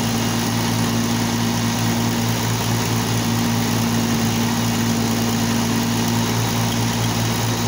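An Oliver 880 tractor engine idling inside an enclosed building: a steady, loud, even rumbling hum that continues unchanged throughout, alone with no voices.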